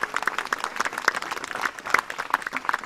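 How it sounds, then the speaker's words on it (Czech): Audience clapping after an amateur theatre play, a moderately sized crowd producing uneven, irregularly spaced claps with individual hand strikes standing out, fairly close and continuous. "Ano, prosím, potlesk."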